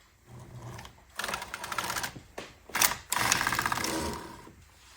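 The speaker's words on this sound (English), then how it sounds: "we're going to take the main carriage left to right." A knitting machine's main carriage slides across the needle bed from left to right, a close, rattling mechanical clatter in uneven bursts with short pauses between runs.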